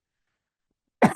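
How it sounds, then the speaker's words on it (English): A single short, sharp cough bursts out after a second of near silence, close and fairly loud. "I still have a cough."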